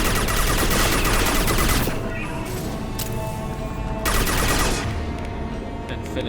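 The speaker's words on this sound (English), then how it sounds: "going to tear through the barrier with the SMG" Sustained rapid SMG gunfire in the video game Mass Effect 2, a loud dense burst of automatic shots for about two seconds, then quieter intermittent bursts with another heavy volley near the end.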